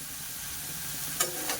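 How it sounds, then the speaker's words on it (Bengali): Cauliflower fries lightly with salt and turmeric, a soft steady sizzle with a couple of brief stirring scrapes near the end. "এরকম একটু নুন হলুদ দিয়ে হালকা করে ভেজে নিতে হবে"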